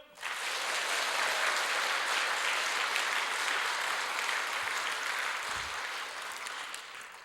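A church congregation applauds at a worship service, sustained dense clapping that swells quickly and holds steady for several seconds before tapering slightly.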